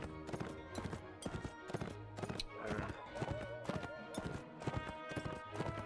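A horse's hooves clip-clop in a steady rhythm through town streets in Mount & Blade: Warband. A short whinny breaks in, and the sound stays moderate under faint background noise.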